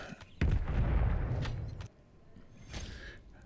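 Static-HV pistol SMG fired in a video game, a burst of rapid muffled shots followed by a few fainter separate bangs and clicks, fairly quiet overall.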